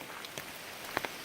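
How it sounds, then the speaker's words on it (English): Steady rain falls in the woods along the Appalachian Trail near a pond, a soft, even patter with a few closer drops tapping on a surface, and no talk. "Still raining."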